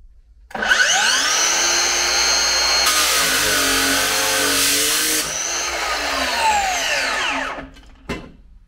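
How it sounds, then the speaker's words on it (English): A miter saw spins up loudly and cuts through toolbox material, holding a steady whining roar for several seconds before winding down, followed by a short clack. "we're going to bring it over to the miter saw"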